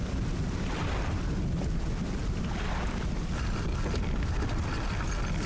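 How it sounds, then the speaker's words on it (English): A loud, sustained burst of thunder roars through heavy storm noise in the fishing game Dredge, filling the whole clip without pause. "And that's some loud thunder"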